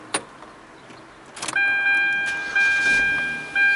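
A Hyundai car being switched off during a diagnostic check for unintended acceleration: a click, then a sharp clunk, followed by a steady electronic chime tone that holds to the end.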